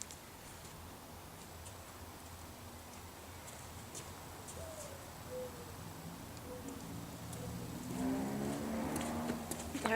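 Faint birds call at night on an open playa, with distant hooting notes and scattered chirps over steady background noise, growing a little busier toward the end.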